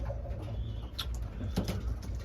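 Racing pigeons coo softly in a loft, a few low throaty calls close by over a rumbling background, with no talking.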